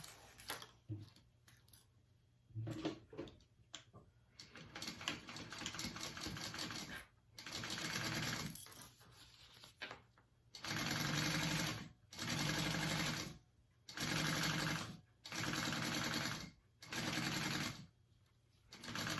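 A sewing machine stitches a zipper seam on a Waterlily tote bag in repeated bursts of steady whirring, each lasting about a second with short pauses between, after softer handling noises at the start.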